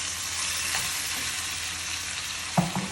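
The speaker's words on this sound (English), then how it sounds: "I'm going to go ahead and add my radicchio and saute that up lightly." Radicchio sautéing lightly in garlic oil sizzles in a pan with a steady, soft frying hiss, with a brief clatter near the end as the leaves are stirred.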